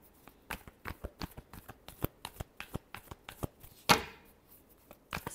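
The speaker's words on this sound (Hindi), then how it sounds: "Last shuffle." Tarot cards are shuffled by hand close up in a quiet room, giving a rapid series of crisp flicks and slaps. One louder riffle burst stands out partway through, and no voices are heard.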